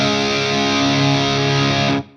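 A clean tube amp driven into overdrive through a Suhr Riot Mini pedal rings out as a sustained, thick distorted guitar chord, loud and steady, then cuts off sharply near the end with a brief decay.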